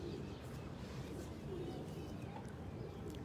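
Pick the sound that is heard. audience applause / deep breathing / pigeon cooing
pigeon cooing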